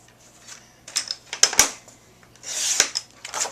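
Cardstock being cut in half at the six-inch mark of a twelve-inch sheet, a series of close, crisp clicks and slicing strokes in short bursts with a longer swipe near the end, no talking.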